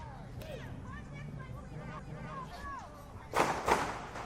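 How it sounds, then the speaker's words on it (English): Gunshots crack at a street protest marking the anniversary of George Floyd's murder, two sharp reports close together near the end, heard over crowd babble and talking voices. "These seem to be gunshots."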